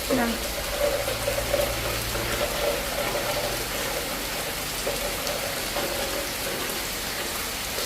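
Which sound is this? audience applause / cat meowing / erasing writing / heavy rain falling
heavy rain falling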